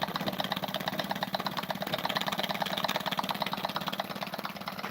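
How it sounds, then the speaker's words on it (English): An old trammer engine, run for the first time in about 40 years, idling with a knock, giving steady, rapid, even thumping beats at close range with no voices over it. "This is the first time this engine's run in about 40 years"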